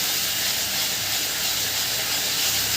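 Whole cumin, bay leaf and cinnamon sizzle in hot oil with ground cumin, coriander, turmeric, sugar and salt, a steady loud broadband hiss of frying spices that runs unbroken throughout.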